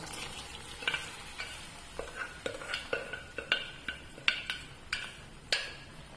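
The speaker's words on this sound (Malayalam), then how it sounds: "ഏകദേശം ഒരു രണ്ടു മൂന്ന് മിനിറ്റായി തിളയ്ക്കാൻ തുടങ്ങി കണ്ടില്ലേ" A sardine and Chinese potato curry simmers in a pot, a faint low bubbling broken by a series of light clicks and taps from a utensil at an uneven rhythm.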